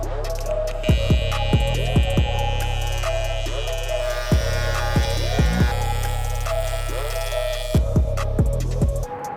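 Welding on an odd spot of an engine front cover with a slightly thicker bead and more heat: a steady electric hum and buzz runs throughout, broken by repeated sharp crackling bursts and pops at irregular intervals.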